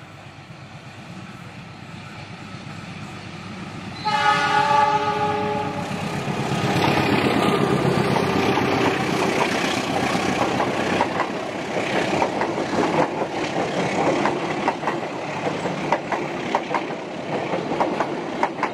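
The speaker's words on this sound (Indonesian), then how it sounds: "nah ini dia kereta api cikur ini Bentar lagi akan muncul nih Dari balik bebukitan" The Cikuray train climbs a hill, rumbling loudly and steadily with a deep engine roar and rhythmic clatter, growing louder after a few seconds and continuing throughout.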